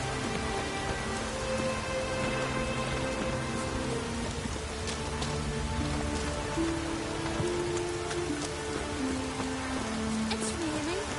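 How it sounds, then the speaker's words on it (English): Steady rain falling in The Witcher 3, an even hiss of drops on surfaces with soft ambient tones beneath, no voices. "It's raining."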